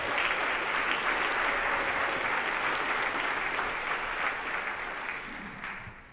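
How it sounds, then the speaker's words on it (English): Sustained audience applause at a public affairs conference, the 2019 Frank Church Conference, with dense steady clapping throughout that slowly fades toward the end. "If we could have a round of applause."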